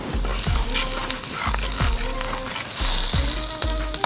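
Curry leaves hit hot oil in a pan for a chicken pepper fry, giving a loud, crackling sizzle with a steady spitting hiss and repeated sharp spatters and thumps of stirring.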